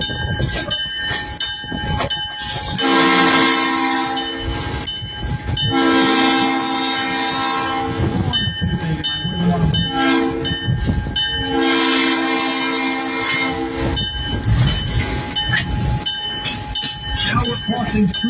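Passenger train running through a Bucks County, Pennsylvania rail line near Lahaska, its multi-tone horn blasting in two long sounds over steady rolling wheel noise, loud and close, with a voice speaking over it.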